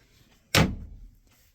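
A cabinet drawer in a GMC motorhome is shut once with a sharp, close wooden knock that trails into a short rattle, with quiet room tone before and after.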